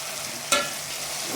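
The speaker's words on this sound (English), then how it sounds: "After adding them into the paste, you stir." Small omena fish from a freshwater lake being stirred into a paste in a pan: one short scrape of the spoon over a soft, steady background hiss.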